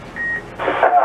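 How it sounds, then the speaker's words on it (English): A short single electronic Roger beep on a CB radio transmission on 27.375 MHz lower sideband, heard clearly over static and followed by a noisy, muffled voice. "Now I also picked up a Roger beep."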